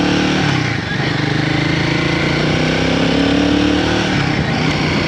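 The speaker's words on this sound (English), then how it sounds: "this bike feels really powerful on the first gear" Royal Enfield Guerrilla 450 motorcycle being ridden in first gear, a loud continuous engine drone with a slight dip near the start, wind roar throughout.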